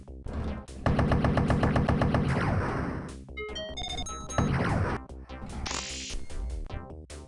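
An explosion in the video game Duke Nukem, a dense burst of rapid crackling blasts with clipped synthetic tones and a brief high electronic squeal, loud and up close.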